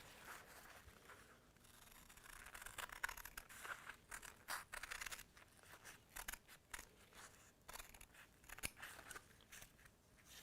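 Scissors cutting around fabric pieces for a textile project, a series of soft, close snips and crisp crunching cuts in an uneven rhythm, faint and quiet overall.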